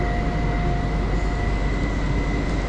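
S-Bahn train arriving at a Munich station platform, a steady loud rumble with constant high whine tones sustained throughout, no talking.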